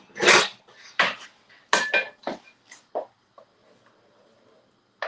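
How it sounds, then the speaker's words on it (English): A wooden spoon knocks and scrapes through prawn curry in a pot, giving a series of sharp, close clacks and scrapes in irregular bursts, loudest at the start and thinning out toward the end. "I'm just gonna stir this."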